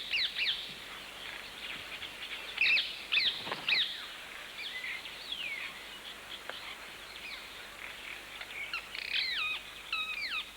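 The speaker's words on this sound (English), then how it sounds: "They also attract birds, a black-headed oriole and a yellow-naped woodpecker." A black-headed oriole and a yellow-naped woodpecker calling in tropical forest, repeated clear whistled and chattering calls in bursts over steady faint background hiss.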